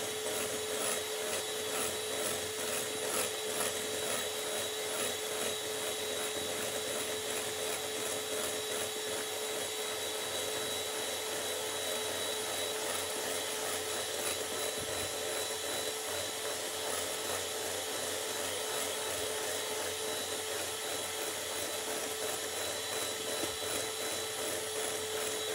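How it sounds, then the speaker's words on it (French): Electric whisk whipping cream for tiramisu at maximum speed, a steady high-pitched motor whine with a constant buzzing whir, unbroken throughout and moderately quiet, without speech. "je vais mettre mon fouet au maximum"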